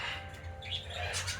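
Cockatiels and parakeets chirping in a free-flight walk-in aviary, a dense, steady wash of bright chirps and tweets from many birds at moderate distance.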